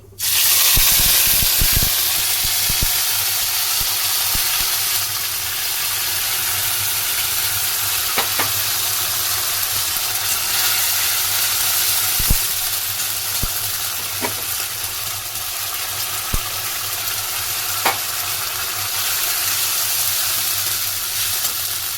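Smooth spice paste with whole cumin dropped into hot oil for bhog khichuri, sizzling and hissing loudly and steadily, with occasional clinks of a stirring spoon against the pan.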